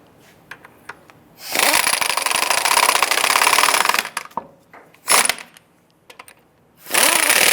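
An impact wrench snugs down the lug nuts on a 2002-2008 Dodge Ram 1500 wheel in loud, close, rattling bursts, separated by short pauses with clinks.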